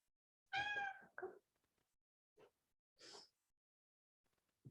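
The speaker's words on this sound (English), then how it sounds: "my cat is joining us" A house cat meows nearby in a quiet room, one clear drawn-out meow followed by a shorter one, then a few faint, brief chirps and breathy sounds.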